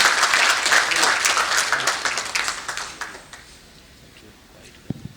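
An audience at a lending technology panel discussion claps loudly for the panelists, the dense applause thinning into scattered claps and fading out after about three seconds, followed by quiet with a couple of faint knocks.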